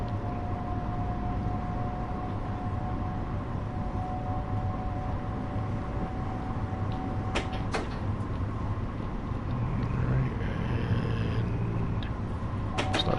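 Train on the Harlem Line in a simulator game rolls along at speed, a steady low rumble and hum with occasional clunks and rattles, alone and fairly faint.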